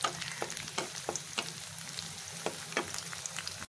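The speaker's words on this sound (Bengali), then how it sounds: "আমি একদম ব্রাউন কালার করে ভেজে নেব।" Onions and chillies frying toward brown in a pan, a continuous close sizzle with soft rhythmic stirring scrapes.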